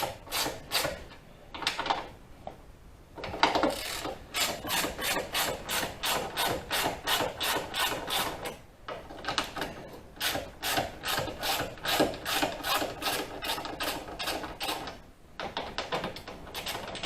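A ratchet with a 12-point socket works on tight bolts while replacing the water pump on a 2006 Chevrolet Impala, giving quick, rhythmic clicking bursts with short pauses between runs of strokes.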